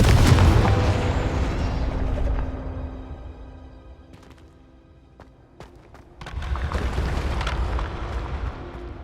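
Confringo fire spell explosions in the Hogwarts Legacy video game, a booming blast that rumbles and fades, followed by scattered sharp pops and a second burst of crackling impact noise.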